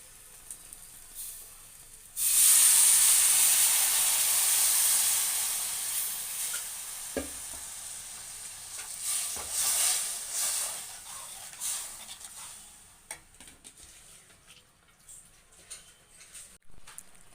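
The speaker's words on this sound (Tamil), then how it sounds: "நெக்ஸ்ட்டு கரைச்சி வச்சுருக்க புளி தண்ணியை வந்து இதில் ஆட் பண்ணிக்கலாம்." Tamarind water pours into a hot pan of kara kuzhambu with a sudden loud sizzle and hiss that gradually fades into softer bubbling and occasional stirring clatter.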